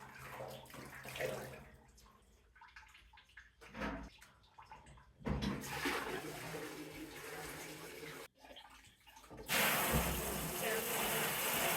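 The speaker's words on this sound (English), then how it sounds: "Once again, kind of rinsing out the sink," Water runs and splashes into a sink as it is rinsed out while cleaning milking equipment. The flow comes in uneven bursts with short pauses and ends in a louder, steady gush.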